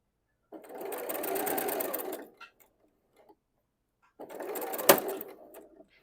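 Sewing machine stitching quilt pieces for a patchwork table runner, two steady runs of close, even whirring separated by a pause, with a sharp click near the end of the second run.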